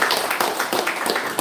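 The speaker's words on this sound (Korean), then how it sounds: "우리 박수 한번 격려의 박수 한번" A church congregation claps for its Sunday school teachers during a Sunday morning service, a dense, steady round of applause filling the room.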